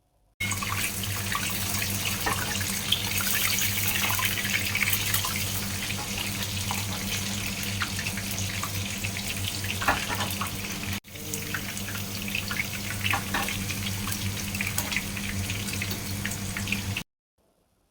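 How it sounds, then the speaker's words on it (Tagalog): Seabream coated in Chinese fermented chili bean sauce frying in oil, a steady, loud sizzle and hiss that runs unbroken for most of the stretch, dipping briefly once midway. "Ayan na, magpiprito na tayo."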